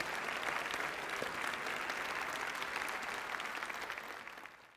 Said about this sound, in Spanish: Damos el aplauso, por favor